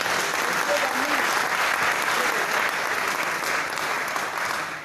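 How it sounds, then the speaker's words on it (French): A church congregation claps steadily, a dense, even wash of applause at constant loudness that only starts to ease near the end. "Est-ce qu'on peut acclamer pour nous?"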